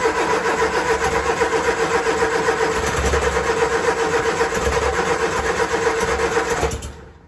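A 1966 Triumph Spitfire Mk II with starting trouble cranks and runs at a loud, steady mid-pitched rumble close by, holding constant for several seconds before cutting off abruptly at the end.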